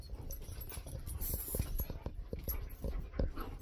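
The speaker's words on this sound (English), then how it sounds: "now our house has four dogs in it" Dogs inside a house pant and whimper in quick, uneven bursts, close by, over a constant low background rumble.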